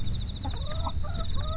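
Chickens cluck softly at night near a home, a few low calls over a steady high insect-like whine and low background hum.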